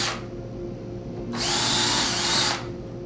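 A power drill whirs in two short bursts while pre-drilling a pilot hole for a shutter hinge screw, the second longer and louder, close by with a steady background hum.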